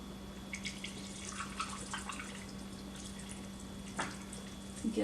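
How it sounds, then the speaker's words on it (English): Water trickling and splashing as it is poured slowly into a spray bottle, a quiet, steady liquid stream with occasional bubbling gurgles. "now we're going to add the rest of that water"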